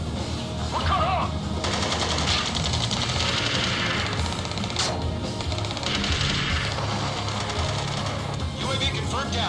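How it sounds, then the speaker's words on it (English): Aerial combat in Ace Combat 7 brings sustained automatic gunfire bursts and crashing impacts over a dense layer of engine and battle noise, with radio chatter voices running through it. "Taking fire! We're pinned down! Shoot back!"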